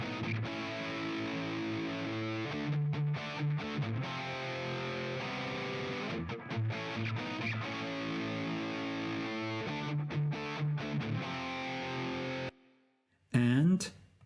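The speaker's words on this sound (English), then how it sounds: "the main guitar in the chorus sounds like this." A distorted main electric guitar plays a rock chorus, loud and sustained with choppy rhythmic breaks in a dense, saturated tone, continuing for about 12 seconds before stopping, followed by a brief burst of sound.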